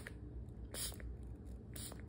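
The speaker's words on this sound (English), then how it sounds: "So I just spray the cleaner on here a few times." Purse cleaner and polish is sprayed from a trigger bottle onto an applicator pad in two short, quiet hissing bursts about a second apart, close up, with a faint rustle in between.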